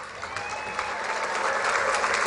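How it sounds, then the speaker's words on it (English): An audience applauds volunteers at a charity breast cancer awareness walk in Evansville, steady dense clapping that swells slightly toward the end, with no talk over it. "Please give them a round of applause."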